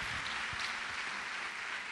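A church congregation applauds in a continuous, even wash of clapping hands, quiet and somewhat distant, with no voices over it.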